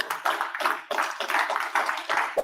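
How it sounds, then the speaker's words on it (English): A modest group claps at a monthly lunch-and-learn gathering as a speaker walks up, giving a series of uneven, rhythmic bursts of hand claps, moderately quiet and close, with no talking over them. "Let's give him a round of applause as he makes his way up."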